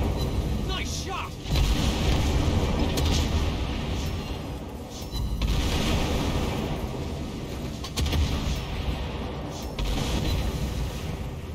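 Naval gunfire striking an enemy ship in a warship video game, heavy rumbling booms over a constant low roar of engine and sea, loud throughout with a person talking excitedly over it.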